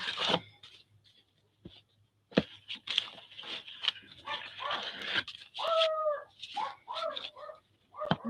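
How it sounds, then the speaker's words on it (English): A dog barks excitedly in a rapid, irregular run of yaps and yelps, some drawn into whiny howls, fairly faint and set against a quiet room with occasional gaps. "And the dog goes nuts."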